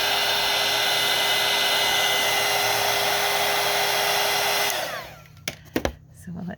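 A heat tool blows a loud, steady whirring roar as it dries mica spray on paper, then switches off and spins down, leaving a few sharp clicks and handling noises.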